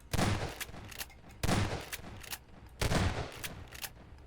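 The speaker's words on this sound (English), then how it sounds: "Next up is the shotgun, so we'll shoot it 2 times actually." A shotgun in Garry's Mod fires three sharp, booming blasts about 1.4 seconds apart, each followed by a short rattling tail, with no talk.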